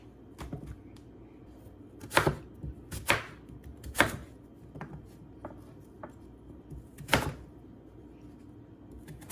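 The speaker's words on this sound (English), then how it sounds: "The sweet potatoes are very hard, so make sure I cut this into cubes." A knife chops firm raw sweet potatoes into cubes on a board, giving a handful of sharp, distinct cuts spaced unevenly a second or more apart, close and clear over a quiet background.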